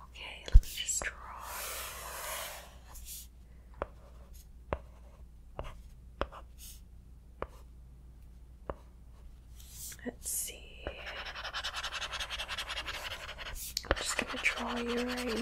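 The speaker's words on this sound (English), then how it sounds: "Can I try and, like, draw you?" A pencil or pen scratches over paper in short strokes and longer shading passes, close and crisp, with soft whispering around the scratching and a few sharp taps.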